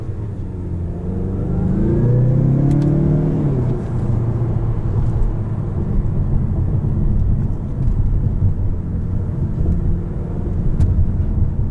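A 2018 Mazda6 Turbo Signature accelerates, its engine note rising in a strong close sweep early on before easing into a steady cruising rumble with road noise.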